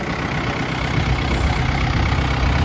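A Yanmar FX285 tractor's heavy diesel engine idles steadily up close, a deep even rumble with no other sounds.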